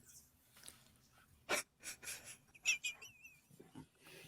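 A sudden sharp sneeze bursts out, followed by a few breathy snorts and a short squeaky whistle-like tone, then quiet breathing.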